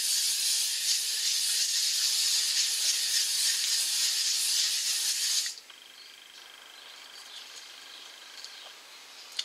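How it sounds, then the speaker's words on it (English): A long, loud, close hiss of La Cura Photo Fit makeup setting spray runs for about five seconds and then stops abruptly. Faint room sounds follow. "I am going to use the last of my La Cura Photo Fit makeup setting spray"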